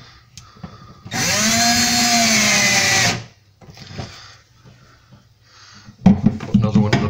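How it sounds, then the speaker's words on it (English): A power screwdriver drives screws into blocks for kitchen shelves. It whines loudly and steadily for about two seconds at close range, followed by quieter handling noises and a second burst of the motor. "I can get my screwdriver up to get a screw in."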